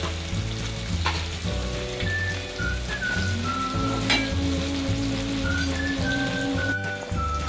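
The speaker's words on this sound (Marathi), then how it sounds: "आपण कांदा परतून घेणार आहोत" Chopped onion sautéing in a pan, heard as a loud, continuous close-up sizzle and crackle with occasional stirring scrapes, accompanied by steady background music and no talking.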